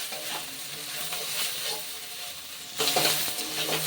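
Soybean chunks fry in leftover potato-frying oil, a continuous close sizzle and hiss that swells louder near the end with a few stirring scrapes.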